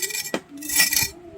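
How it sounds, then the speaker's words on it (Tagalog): A knife cuts through crispy deep-fried Filipino pork belly lechon kawali, giving two or three short crackling crunches with clattery utensil contact, close and fairly loud, with no talking. "Slice lang natin siya mga kachoy kasi sobrang ganda talaga ng pagkaluto ng ating lechon kawali."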